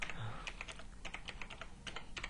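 Typing with one hand on a computer keyboard, a faint, close run of uneven key clicks and taps.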